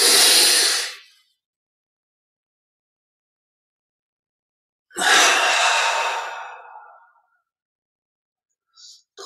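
Deep breaths during a guided meditation: a long exhale, silence, then a slow inhale and release, close and breathy with quiet gaps between.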